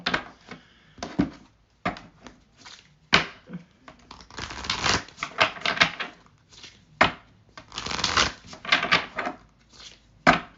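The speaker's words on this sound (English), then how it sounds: "I feel like this shuffling takes longer than the actual readings." Tarot cards being shuffled by hand make a run of irregular riffling and slapping bursts, close and fairly loud, separated by short quiet gaps.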